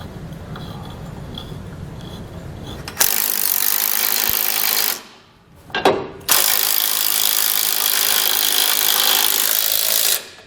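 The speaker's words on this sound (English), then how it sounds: "line this up and then thread it into that factory nut plate" A ratchet drives a factory bolt into a nut plate while mounting a Blue Ox base plate on a 2012 Ford F-150, giving long, loud steady clicking runs broken by a brief pause, with no talk.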